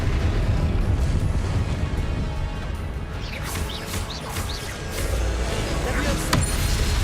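A Confringo spell explosion in the Hogwarts Legacy video game, a loud, rumbling, sustained blast that swells again later, with voices and game noise mixed in.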